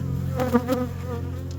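Honeybees crawling out from under a hive that overwintered on a mesh floor without insulation produce a steady, close, droning buzz, with a couple of louder passes as bees fly near.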